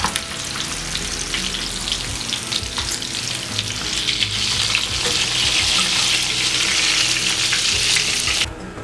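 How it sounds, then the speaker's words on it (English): Meatballs fry in a pan with a loud, steady sizzle and crackle, occasionally stirred or shifted, the hiss swelling slightly stronger partway through before cutting off at the end. "So you keep frying until it's almost cooked, but not very cooked because it's still going to cook in the stew."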